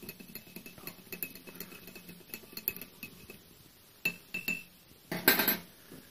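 A spoon stirs sugar into a glass of mint drink, giving a steady run of small clinks and taps against the glass, with a louder burst of clinking near the end, close and alone.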